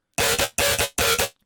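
A dubstep drop in the style of Virtual Riot, made with heavy OTT compression and a cleaned-up low end, plays as three loud, dense buzzing synth stabs. Each stab has a short internal pulse, with brief silent gaps between them.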